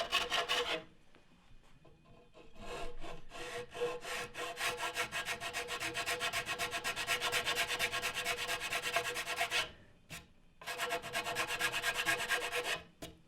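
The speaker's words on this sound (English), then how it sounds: "Now we'll touch those spots up with a wood rasp so there's no residue of glue." A wood rasp scrapes glue spots off a wooden snowshoe frame in fast, rhythmic rubbing strokes, close and steady, with two short pauses and no talk.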